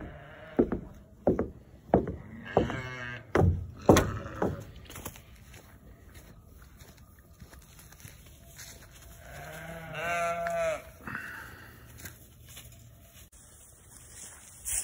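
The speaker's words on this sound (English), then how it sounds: "In the morning, the lambs are very vocal. They let you know when they're ready to eat breakfast." Lambs bleating on a farm on a freezing morning, waiting to be fed, a series of loud, close calls in quick succession early on, then a longer bleat after a quieter stretch.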